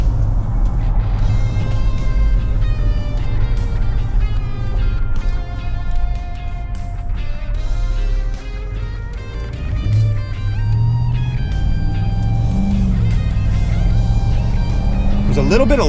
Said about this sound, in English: Let us get to hear that motor a little bit more.